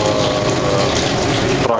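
Water from boiled potatoes draining through a sieve, a steady loud gushing pour that runs without a break and cuts off at the very end.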